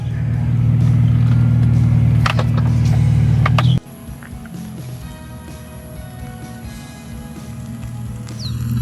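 A standard Nissan Sentra B13 drives along with a loud, low engine drone heard from inside the cabin, which drops abruptly partway through and continues more quietly under rattles and road noise before building again.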